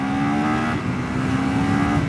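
A 2024 Husqvarna Svartpilen 401 motorcycle engine revs hard and steady in second gear, a loud continuous drone with a rising pitch, close by and with no voices over it.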